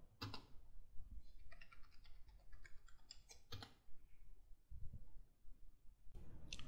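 Faint, scattered clicks of typing on a computer keyboard on a Linux machine, quiet taps in small runs separated by short pauses with a few louder strokes.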